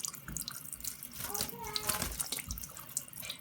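Tap water runs steadily into a big bowl set under the faucet for a pet green cheek conure's bath, a soft close splashing stream with a voice faintly in the background.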